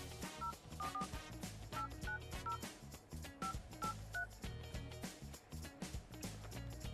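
Telephone keypad tones ring out in a quick series of beeps as a number is dialed for a prize-draw winner, played over loud, continuous music.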